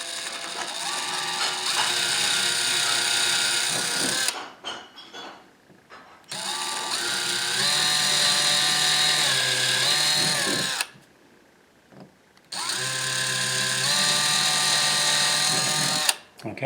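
Power drill boring small pilot holes into a ceiling for recessed lighting, three sustained whirring bursts of several seconds each, with the motor pitch shifting under load and short quiet gaps between them.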